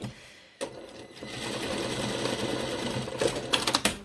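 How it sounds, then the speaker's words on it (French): A sewing machine runs in a steady stitching burst across a trouser fly, sewing a crosswise bar tack to secure it, its motor whirring continuously at close range with a few sharper clicks near the end. "je me fais une piqûre ici en travers pour bien le bloquer"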